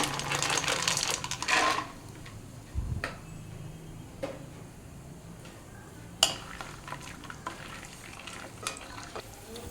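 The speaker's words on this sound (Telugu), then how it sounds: "ముందుగా జీలకర్ర వేసి కొద్దిగా పల్లీలు వేస్తున్నాను" Cumin seeds and peanuts frying in a little oil in a pan for a simple chutney, with a loud, dense sizzle for about two seconds that settles into a quieter crackle broken by occasional sharp knocks of a spoon against the pan.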